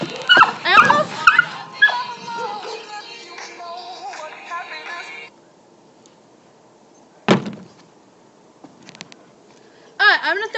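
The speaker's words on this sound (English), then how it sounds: "That was a dog." A dog whimpers, yips and barks in a quick burst at the start. A lone sharp bark follows after a pause, then more whimpering near the end, close by, with people talking.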